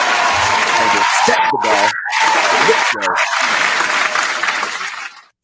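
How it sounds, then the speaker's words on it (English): Studio audience applause breaks out in a loud, steady wash for a Latina urban music artist, briefly dipping twice and fading near the end, with a voice speaking over it. "A round of applause for Latina urban music."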